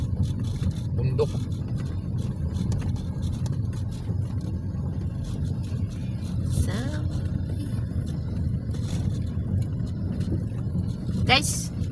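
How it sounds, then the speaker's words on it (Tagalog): A Toyota Vios sedan travels a rough mountain road in Lobo, Batangas, giving a steady low engine and road rumble throughout, with someone talking over it and occasional brief higher noises. "sedan tong dala namin sasakyan, ah. Pero kinakaya niya tong daanan."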